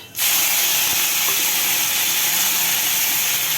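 Neem leaves hitting hot oil already spiced with panch phoron and dry red chilli, a loud, steady, close sizzling hiss that bursts in at once and holds for the rest of the clip.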